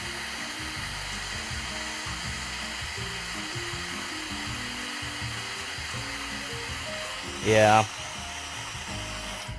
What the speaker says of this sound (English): Hair dryer time.